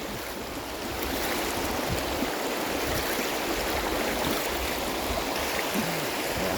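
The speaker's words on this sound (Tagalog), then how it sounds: "tanging lagaslas lang ng tubig" Water rushes steadily over rocks at a rocky river bathing spot in Zambales, a loud, continuous broadband roar close by with no voices.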